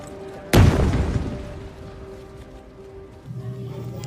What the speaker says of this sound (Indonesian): Ketika bom kembali meledak